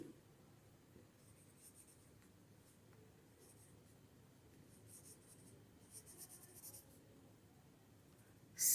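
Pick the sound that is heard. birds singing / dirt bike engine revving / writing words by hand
writing words by hand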